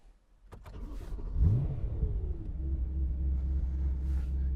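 A BMW E92 M3 GTS engine cranks and catches, flares briefly, then settles into a steady, loud idle rumble close by, with a few clicks just before the start.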